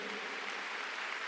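Dense, steady applause from a worship crowd, a continuous hiss of many hands clapping with no break.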